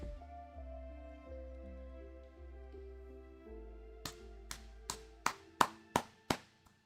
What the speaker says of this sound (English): I clap. I clap for this